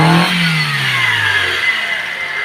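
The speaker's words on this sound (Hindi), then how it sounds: "देखिए गाड़ी स्टार्ट है, यहाँ बेल्ट घूमने लग रहा है," A Chevrolet Sail petrol car engine settles into running just after starting, its revs dropping from a brief flare to a steady idle with a whining belt, recorded up close with no one talking.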